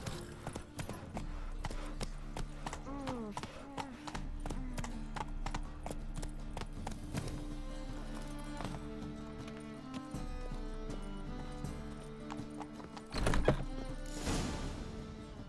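Roach the horse galloping in The Witcher 3, a steady, rapid clip-clop of hooves drumming close throughout, with a brief louder thump near the end and faint talk underneath.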